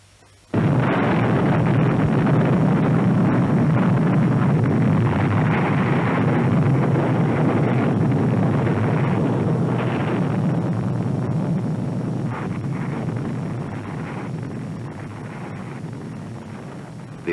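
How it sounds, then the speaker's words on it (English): Atomic bomb bursting over a town in a 1952 UK civil defence film: a sudden loud blast opens into a long, sustained roaring rumble that slowly fades, with no voices. "The atomic bomb has burst over Sheffingham."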